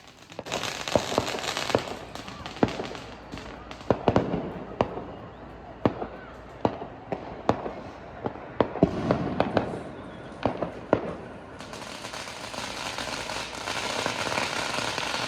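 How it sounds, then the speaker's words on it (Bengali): Diwali firecrackers burst near a temple, a string of sharp cracks and bangs at irregular intervals over a steady crackling background, some close and loud, others farther off, ending in a denser fizzing hiss. "পিছনে একটা মন্দির আছে আর সেইখানে এইভাবে বাজি ফাটছে"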